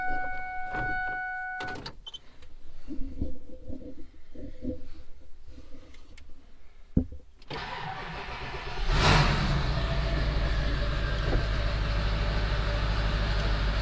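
Some mechanical clunks and a car door or latch, then a vehicle engine cranks and catches around the middle and settles into a steady, loud rumbling idle nearby, with no speech.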